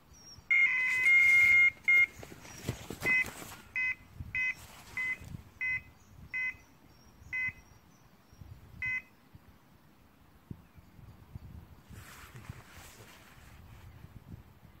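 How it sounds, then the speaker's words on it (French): Electronic carp-fishing bite alarm on the right-hand rod beeps: a long tone, then a string of short evenly spaced bleeps, with outdoor rustling and handling noises in between. "Une alerte et un petit bip sur la canne de droite."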